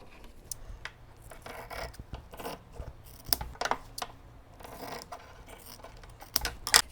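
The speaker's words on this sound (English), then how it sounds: "Now I'm going to cut down the middle between the stitch lines." Scissors cut quilt fabric down the middle between stitch lines with a series of close, crisp snips and rustles, some sharper clicks toward the end, and no talking.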